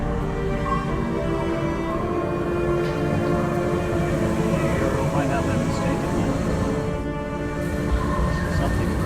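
The night train in the video game Luna Abyss runs on, a continuous heavy rail rumble with tonal hum and occasional clatter, steady and close throughout.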